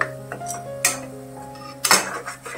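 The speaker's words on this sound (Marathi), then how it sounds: "चांगलं फ्राय करून घ्यायचंय। सगळं साहित्य चांगलं परतलं गेलं पाहिजे।" A spoon stirs and fries spinach, paneer and spices in a metal pan for palak paneer, producing a few sharp clinks and scrapes against the pan over a quiet steady background.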